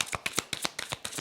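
Tarot cards being shuffled and drawn by hand, a quick run of about nine crisp riffling bursts in an even rhythm, close and clear with no voices.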